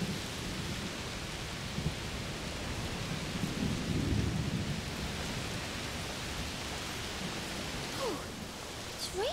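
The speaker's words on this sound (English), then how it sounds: "Must be a heat storm." Steady heavy rain and a low rumbling thunderstorm in the video game A Plague Tale: Requiem, with a continuous broadband wash and a deeper swell of thunder midway, no talking.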